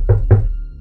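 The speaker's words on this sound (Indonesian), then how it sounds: "Pukul 12 tengah malam, terdengar suara ketukan pintu." Two dull knocks on a door, close and loud, land in quick succession against a low steady background hum.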